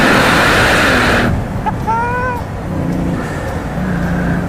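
A sports car accelerates hard out of a corner in second gear, a loud, rushing roar mixed with wind noise that gives way to a brief rising engine whine and then a steady drone.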